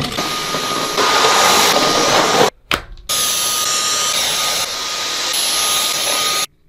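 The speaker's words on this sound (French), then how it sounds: "transition aspirateur" A vacuum cleaner runs with a loud, steady hissing roar and a high whine. It cuts out briefly in the middle, then starts again and keeps going until it stops just before the end.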